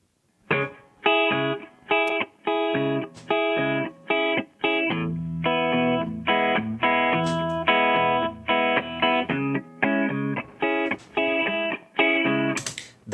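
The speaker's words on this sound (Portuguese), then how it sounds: "E aqui eu coloquei um reverbzinho, o Reverb 1, e o Reverb 1 é um reverb de room." Electric guitar playing repeated strummed chords through a room-style reverb from the TrueVerb plugin, loud and rhythmic with short gaps between stabs, a fuller low-end passage in the middle, and a spacious reverberant tail around each chord.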